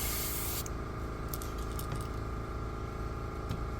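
Spray paint hisses out in a loud, continuous close-up blast, starting after a brief moment while painting a simple design.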